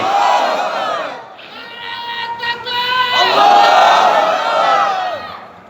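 A large crowd at an outdoor Islamic religious gathering chants the takbir in unison, loud, drawn-out shouted phrases rising and falling in two long waves, close and forceful.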